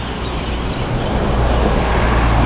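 Steady roar of car traffic on a Singapore street near Marina Bay at night, a continuous broadband wash of engines and tyres with no distinct passes standing out.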